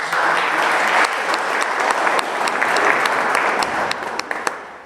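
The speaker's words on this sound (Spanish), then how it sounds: "Un aplauso, por favor." A seated audience at an academic session gives a steady, sustained round of applause that tapers off near the end.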